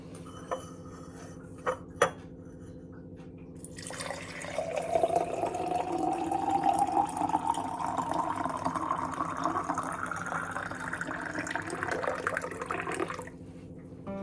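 Lukewarm water pours steadily into a glass for several seconds, a rising gurgling fill over a low background hum, with brief clinks before it starts.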